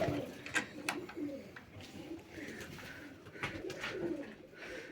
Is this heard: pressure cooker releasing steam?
no